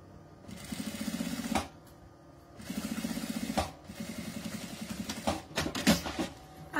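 Sewing machine stitching the edge of a small fabric bag in two steady runs of rapid, even stitching, then shorter uneven bursts with handling noises, close by and fairly loud.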